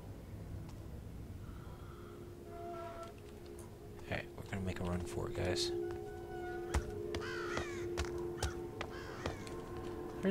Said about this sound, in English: There's birds in there.